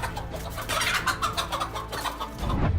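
A hen clucks loudly and continuously to defend her chicks from a cobra, with a rooster and other fowl nearby; the agitated calls come close, in rapid overlapping bursts.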